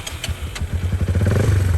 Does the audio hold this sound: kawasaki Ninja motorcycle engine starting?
yes